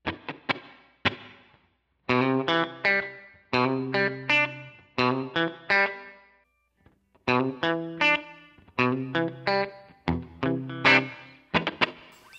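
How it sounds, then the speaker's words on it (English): Electric guitar played in short strummed chord phrases through a Line 6 HX Stomp Dynamic Hall reverb set very subtle, bright and slightly overdriven, with brief pauses between phrases and a faint tail. "in the very subtle hall reverb category, the dynamic hall can go like to very low"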